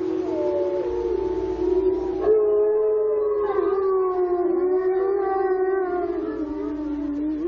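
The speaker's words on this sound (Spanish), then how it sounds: "El lobo." A wolf gives a long, loud, sustained howl of about seven seconds, its wavering tone rising in the middle with other voices joining alongside, close by and with no talking.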